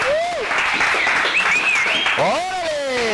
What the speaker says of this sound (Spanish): otros aplausos y rechiflidos, por favor, para las niñas de poder